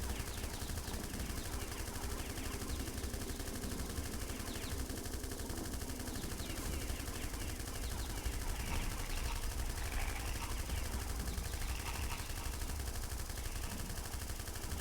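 A gun in an indie horror game fires as rapid, dense bursts blended into a constant loud wash of game sound, with a voice talking over it.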